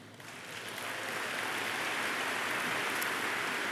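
A broad wash of audience applause swelling in over the first second, then holding steady and dense without any voices on top.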